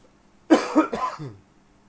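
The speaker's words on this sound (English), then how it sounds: "every time I talk, I start to cough too much" Two or three harsh, close coughs in quick succession, each a rough burst, trailing off into a brief throaty clearing, with no talking.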